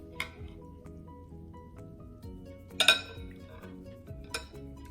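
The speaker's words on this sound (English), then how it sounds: "Okay, so I'm gonna mix again." A spoon clinks and scrapes against a pot while chicken rice sauce is mixed, with a few sharp metallic knocks among quieter wet stirring, close and fairly soft.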